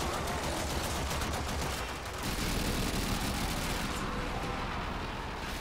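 Rapid automatic gunfire in the sci-fi shooter Warframe, a sustained loud clatter of shots pouring out without pause, with a brief thinning near the end and no talking.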